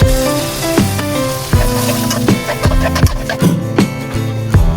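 Ginger, garlic and cumin paste hits a hot frying pan while cooking chicken biryani, giving a loud, close, continuous sizzle broken by regular scraping strokes of stirring, with no talking.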